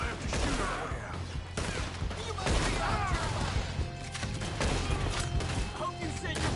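Rapid gunfire in Red Dead Redemption II, a dense continuous volley of shots with clattering impacts, loud and close, mixed with game music and voices talking.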